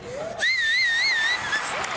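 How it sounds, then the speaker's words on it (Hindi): Audience whistling on the Family Fortune game show: one loud, wavering whistle held for about a second over steady crowd noise, then fading. "सीटी बजाओ, सीटी।"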